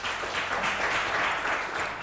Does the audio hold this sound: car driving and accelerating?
no